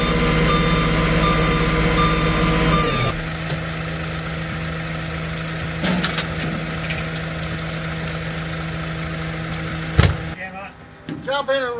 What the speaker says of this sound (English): The tow truck is here.